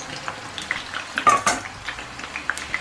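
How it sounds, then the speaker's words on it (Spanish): Potatoes frying in hot oil in a pan as lamb shanks are prepared, with soft crackling sizzle and scattered clinks of a utensil against the pan, close and moderate in level. "Tenemos ya el aceite un poquito caliente, pues vamos a ir incorporando las patatas"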